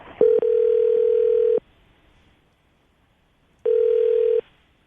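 A telephone ringback tone sounds as an outgoing call connects: two loud, steady electronic rings, the first about a second and a half long, then a pause and a shorter second ring.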